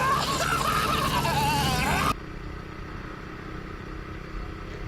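A small motorbike rides along a rural highway, its high buzzing engine rising and falling in pitch for about two seconds before dropping abruptly to a much quieter road and wind rumble.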